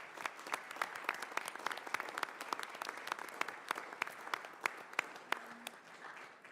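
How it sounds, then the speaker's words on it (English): Students are applauded at a Durham County commissioners' meeting: a room of people clapping in steady, separate hand claps that stay moderately faint and fairly even throughout. "I'd like to ask our students to stand up for a round of applause."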